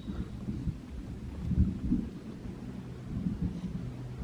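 Low, rolling thunder from a nearby storm near a logging site, a steady rumble that swells around the middle and fades without clear peaks, heard alone with no talk.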